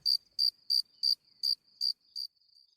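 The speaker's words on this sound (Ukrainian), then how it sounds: "Цвіркун." A cricket chirps in seven short, regular bursts, each a bright high trill with brief pauses between, close and clear against silence.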